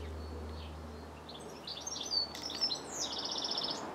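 Garden birds singing faintly at a distance, with short chirps and a run of rapid repeated notes over quiet outdoor background.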